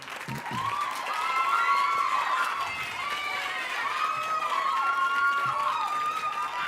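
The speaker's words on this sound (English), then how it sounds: "So if you could give a round of applause for those two, Hallie and Bree." An audience at a high school fall choir concert claps steadily for several seconds, with bright whoops and cheers rising over the applause.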